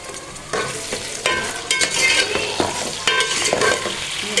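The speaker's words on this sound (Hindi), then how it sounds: "प्याज फ्राई करेंगे हम इसके अंदर ये डाल देते हैं।" Onions frying in a pan for a homestyle arbi and baingan dish, a close, lively sizzle broken by repeated stirring scrapes and clatters, with no talking.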